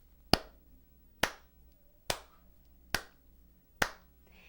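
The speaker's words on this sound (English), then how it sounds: "Can you clap like this?" Five crisp hand claps at an even, unhurried pace, each sharp and distinct against near silence.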